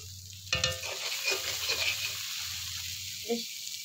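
Chili, coriander and cumin powder frying in a pan for a katla fish dish, a close sizzle that starts with a sudden loud hit and then crackles on, with a brief clink near the end.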